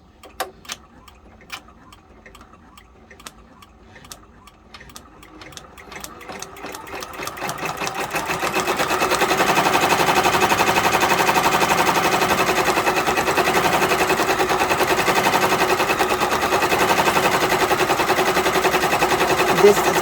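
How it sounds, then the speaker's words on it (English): A Brother multi-needle embroidery machine stitches out a design, starting with sparse ticking stitches that speed up into a steady, loud, rapid mechanical clatter that holds to the end. "Now it's going to stitch out the little box inside that's going to have the check mark in it."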